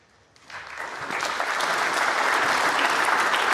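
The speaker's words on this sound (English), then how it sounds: "nice appreciation from the crowd" A knowledgeable snooker crowd at the Centaur venue in Cheltenham breaks into applause, rising quickly from quiet and then holding a steady, dense clatter of many hands.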